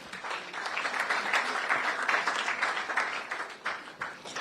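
Sustained audience applause at a Ghanaian awards ceremony, steady dense clapping from a sizeable crowd lasting several seconds, fairly even throughout and tapering near the end.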